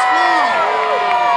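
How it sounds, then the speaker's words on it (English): Crowd of spectators cheering and whooping for the Green Knight at a knights' tournament at Dover Castle, loud and close, with rising and falling shouted voices blending into a continuous roar. "So if you're cheering for the Green Knight, let me hear you cheer now."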